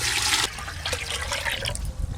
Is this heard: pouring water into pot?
yes